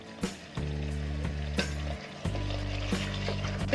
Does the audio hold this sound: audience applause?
no